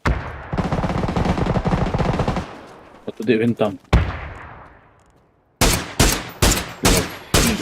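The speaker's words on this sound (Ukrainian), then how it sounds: "З чого ти стріляєш?" Repeated rifle fire from an SLR in a shooter video game: a long rapid burst of shots, then a short pause, then several loud separate single shots in quick succession, with brief talk between.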